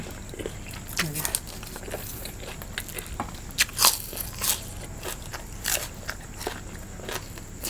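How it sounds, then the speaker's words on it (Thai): Crispy pork wrapped in vegetable leaves being bitten and chewed close to the microphone, with sharp loud crunches at irregular moments between quieter chewing, while a person murmurs now and then. "เอาหมูเข้าปากก่อนแล้วค่อยห่อผัก"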